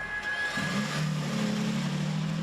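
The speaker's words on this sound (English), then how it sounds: "there's the electric motor, and then the gas engine kicks on." In a 2023 Toyota Sequoia TRD Pro hybrid pulling away, the gas engine kicks on after the electric motor, bringing a low engine drone in under a fading electric whine.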